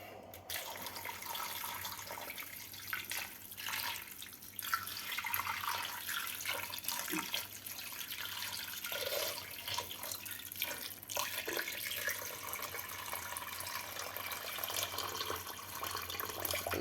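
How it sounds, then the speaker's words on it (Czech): Tap water runs steadily into a cooking pot for a vegetable broth, a soft continuous splashing and trickling at close range. It is fairly quiet, with no talking. "No, zaléme vodou."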